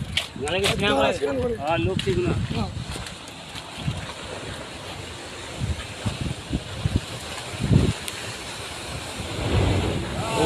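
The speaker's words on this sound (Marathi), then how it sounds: "लाटा म्हणजे बघा शकता तुम्ही" Ocean waves surge and wash loudly against a windy background, while people talk and exclaim near the start.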